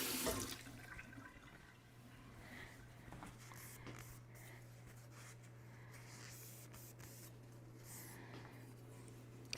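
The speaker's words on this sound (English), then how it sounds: "I like to give this a little rinse" Water runs steadily from a tap as a Ninja Foodi NeverDull kitchen knife is rinsed, a continuous close splashing hiss with no talking.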